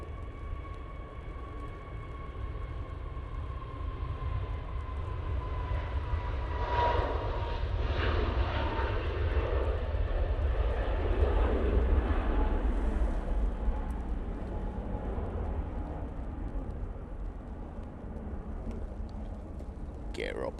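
A jet airliner climbs away from Manchester Airport with its gear retracting, a steady, broad engine roar held at a distance that swells in the middle and then slowly fades.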